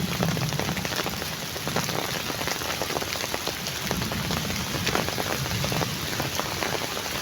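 Steady rain falls on surfaces in an African village, a dense continuous hiss with scattered drop patter, close and even throughout, with no voices.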